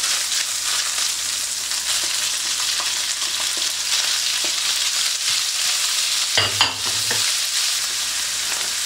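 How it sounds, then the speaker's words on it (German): Minced meat and mushrooms fry hard in a pan, a continuous loud sizzle with scattered scraping taps from stirring and a brief louder clatter near the end, no voices. "Dann tue ich das Hackfleisch scharf anbraten. So, jetzt kommen die Pilze rein."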